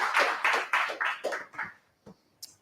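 A small audience at an in-person serverless tech meetup gives a brief round of claps for the next speaker, a few loud, close, uneven bursts that quickly thin out to scattered single claps.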